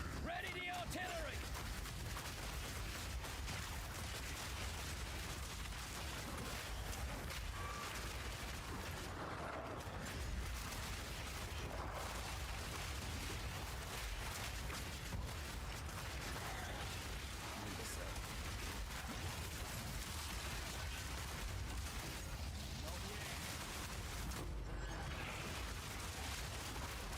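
Continuous artillery fire and explosions in a video game, a dense unbroken barrage of booms and crackling blasts that holds steady throughout, with talk faintly mixed in.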